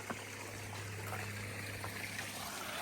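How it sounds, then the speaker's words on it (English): A small stream trickles over rocks along a hiking trail, a soft, steady burble heard faintly under a low constant hum, with no talking. "Oh, another little water feature. Stream."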